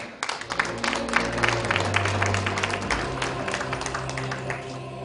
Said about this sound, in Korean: 여러분 무대 위에 올라갈 때 기분 좋은 박수 부탁드리겠습니다.